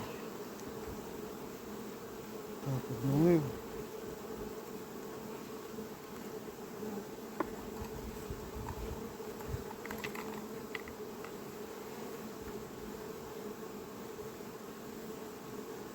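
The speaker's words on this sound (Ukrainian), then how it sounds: "Бджола так інтенсивно, в другий корпус пішла." A steady, low drone of many honeybees buzzing close by at a hive, with a brief spoken phrase early on and occasional faint knocks.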